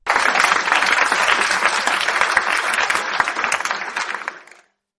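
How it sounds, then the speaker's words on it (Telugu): Crowd applause used as a sound effect in a narrated story, a loud wash of many hands clapping at once that holds steady and then cuts off abruptly. "ఆ మాటతో మొత్తం జనం నిశ్శబ్దమైపోయి ఒక్కసారిగా చప్పట్లతో"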